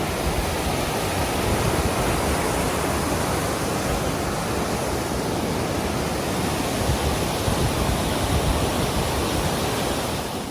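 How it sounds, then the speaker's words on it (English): Clear, fast-flowing stream water rushes steadily and loudly nearby, a dense unbroken roar with no voices. "that's clear, hard flowing water"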